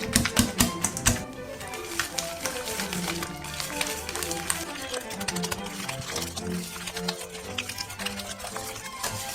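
Dense mascarpone is worked into liquid cream with a rapid, rhythmic clatter of utensil against bowl, louder at first and then settling into steady close tapping and scraping.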